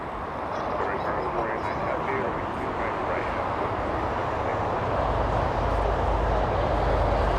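Airplane engines roar steadily at Los Angeles International Airport, a loud broadband rumble that swells slightly toward the end.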